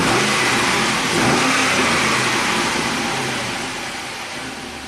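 A 2006 Pontiac GTO V8 with a cylinder 3 misfire idles close by with a steady broadband rumble, swelling slightly then easing off gradually, no talking.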